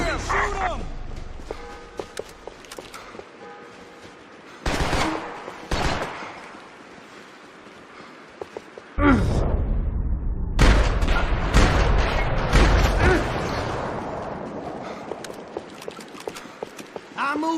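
Gunfire in the Max Payne 3 video game, with scattered sharp shots, then a dense burst of rapid firing and booms, voices shouting between volleys.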